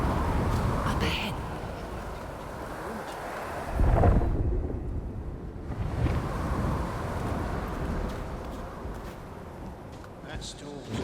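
A thunderstorm rolls through the video game Unknown 9: Awakening, with a loud thunder boom near the four-second mark over steady wind and rain, while a voice talks over parts of it.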